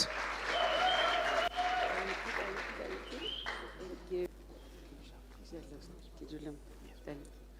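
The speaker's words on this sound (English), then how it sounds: "Please can we give a massive round of applause?" An audience applauds as a guest comes on stage at a business workshop in Galeshewe, clapping dense and steady for a few seconds before fading out, followed by an announcer speaking over faint lingering noise.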